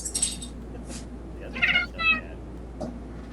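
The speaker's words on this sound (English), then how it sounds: "He's my fat dumb cat." A house cat gives several short, close meows spread across a few seconds, with brief faint chatter in the background of a room.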